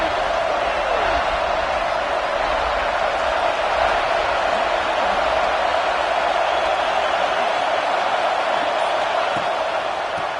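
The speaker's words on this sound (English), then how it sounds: "And here comes the noise. This crowd is trying to inspire this defense to make a big red zone stop." Stadium crowd at an Ohio State versus Michigan college football game roars loudly and steadily throughout during a red zone defensive stand, a dense wall of cheering noise with a commentator's voice faintly beneath.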